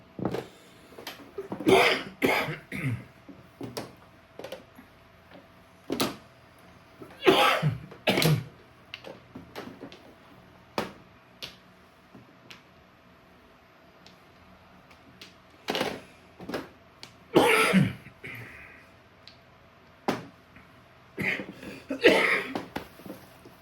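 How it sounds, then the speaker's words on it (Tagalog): Several sharp coughs scattered across a quiet room, some in quick clusters of two or three, with brief pauses and faint background hum between. "May ubo ka siguro."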